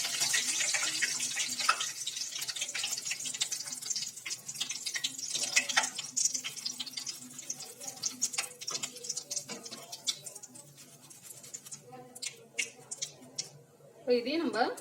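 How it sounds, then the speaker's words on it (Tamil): Curry leaves frying in hot oil for kara boondi, a dense crackling, spitting sizzle that is loud and close at first and gradually thins, with someone talking over it. "அடுத்தது கொஞ்சம் கருவேப்பிலை வறுத்துக்கலாம். இப்போ நம்ம இதையும் சேர்த்து வச்சுக்கலாம். தெளிக்கும், பார்த்து செய்யுங்க."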